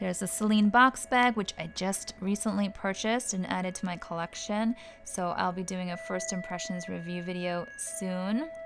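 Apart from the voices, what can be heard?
No everyday noises stand out.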